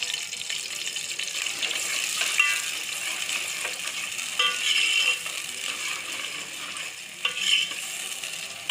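Onions frying in oil in a cooking pot, a dense continuous sizzle with occasional scrapes and stirring clinks, fairly close and steady with no talking.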